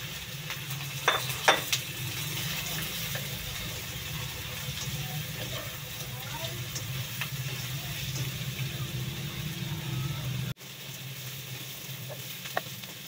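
Fried tofu goes into a hot pan and sizzles steadily for several seconds, a continuous moderate crackle with a few louder pops near the start and a brief drop in level toward the end.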